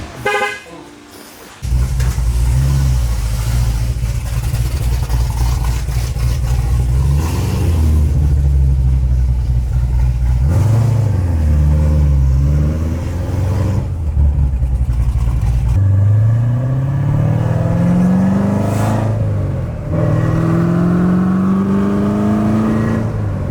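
An 850HP Corvette Z06 engine revved up to its rev limiter, a loud sustained roar with rising and falling pitch sweeps as the throttle is worked, steady and close throughout.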